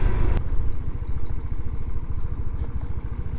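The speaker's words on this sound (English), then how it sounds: "And it's really quiet too when you're just sitting here idling." A Vitacci Tank 200 Deluxe scooter engine idles quietly and steadily, a close, even putter with a regular low pulse after a short louder burst at the start, with no one talking.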